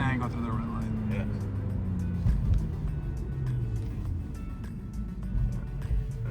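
Manual turbocharged BMW with Valvetronic accelerating under load, a steady low engine drone with rising pitch sweeps as it pulls through the gears, close and continuous with a voice talking over it.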